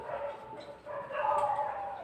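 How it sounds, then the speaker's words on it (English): Dogs bark somewhere off in the distance, a faint yipping and howling that rises and falls over a couple of seconds in the background. "Once again, the doggies have started."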